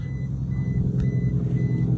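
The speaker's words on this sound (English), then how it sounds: "Shallow water alarm." Boat shallow water alarm, a repeating electronic beep pulsing about every half second over a loud low engine rumble close by.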